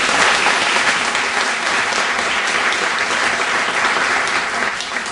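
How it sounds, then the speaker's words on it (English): Applause for Pat Mogler fills a Zija meeting room, a strong, continuous wash of clapping from a sizable audience holding steady and loud from start to finish. "let's give Pat Mogler a nice round of applause"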